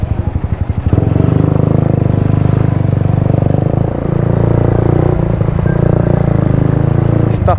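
A Suzuki Raider motorcycle with its stock muffler runs close by, its loud, buzzy engine note carrying steadily throughout with slight throttle variations.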